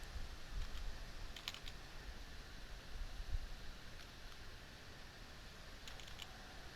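Keys tapped on a computer keyboard while entering a number, a few faint, sparse clicks over a steady background hiss with no talking.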